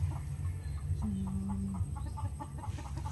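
Chickens cluck softly in a steady run of short calls over a low background hum, close by.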